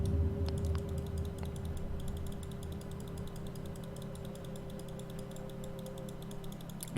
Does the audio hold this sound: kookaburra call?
no